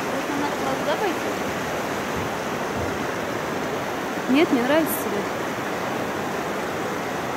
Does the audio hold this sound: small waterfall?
yes